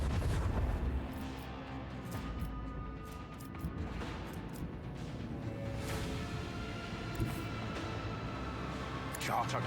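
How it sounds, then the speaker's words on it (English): Macro cannons firing from a starship in Warhammer 40,000: Rogue Trader, a series of heavy booms and bursts rolling under a low rumble, with a voice speaking over them. "Unleash the storm of macro cannons."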